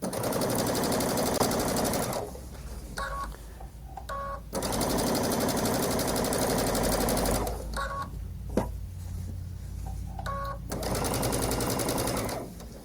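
A sewing machine stitches along the edge of quilt block fabric in close, rapid whirring bursts, with short pauses and faint handling clicks between runs.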